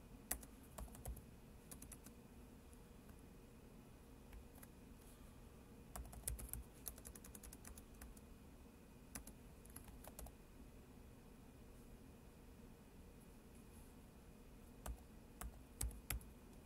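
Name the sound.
typing on a computer keyboard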